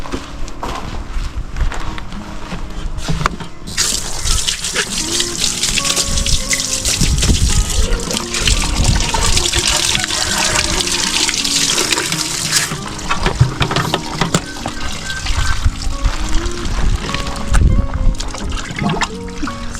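Tap water runs and splashes steadily while a freshly butchered chicken is washed, with sloshing and shifting bursts as the bird is handled in the stream, fairly close and loud.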